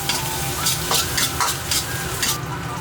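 Ginger, scallion and garlic stir-fry in a wok with continuous sizzling and a series of rhythmic scraping strokes from the spatula, close up, no talking.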